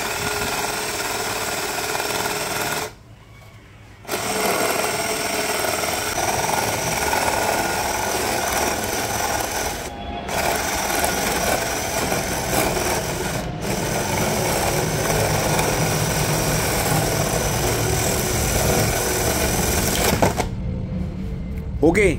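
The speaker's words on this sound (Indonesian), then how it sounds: "Kita ubah dulu ya posisi mengebornya vertikal seperti ini nih, biar kelihatan ya kalau kayunya sudah berlubang atau tidak." An NRT Pro DC320 cordless drill driver bores vertically into wood, its motor whining and grinding steadily for long stretches with a few short pauses, loud and close.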